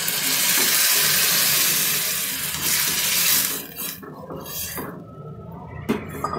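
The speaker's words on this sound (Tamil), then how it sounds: "இப்போ நம்ம இந்த அரைச்சி வச்சுருக்கிறத நல்லா தண்ணியாக கரைச்சி கீழே ஊற்றிக்கணும்." Water-thinned ground paste poured into a hot pan while cooking buttermilk curry (mor kuzhambu), giving a loud, broad hissing sizzle that settles into quieter bubbling and scattered clinks.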